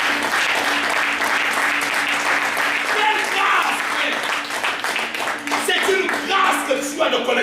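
Church congregation applauding together, a steady dense wash of clapping sustained throughout, mixed with voices and crowd noise.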